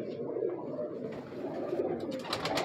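A purebred breeder pigeon of an old line coos softly and repeatedly in a loft in Lahore, the low rolling calls steady and close with faint background noise and no speech.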